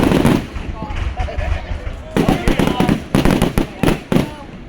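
Fourth of July fireworks over the Merrimack River pop and crackle in quick irregular bursts, a dense run of sharp bangs at middle distance, with people chatting nearby throughout.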